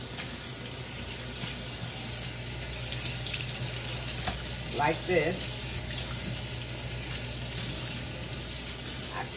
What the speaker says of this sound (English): Usually just let the water run and make sure it's no dirt or anything.